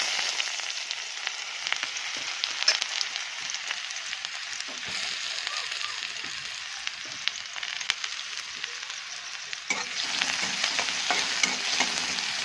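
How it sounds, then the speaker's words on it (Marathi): Onion drops into hot oil in a home kitchen, giving a steady bright sizzle and crackle that runs throughout with occasional stirring clinks, and no talk over it. "तर बघा, तेल आपलं आता तापलेलं आहे. याच्यात टाकणार आहे मी कांदा."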